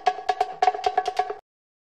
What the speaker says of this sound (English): It's an old drum loop.